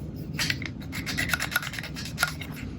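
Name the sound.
wiping Kodak Instamatic 100 camera surfaces with alcohol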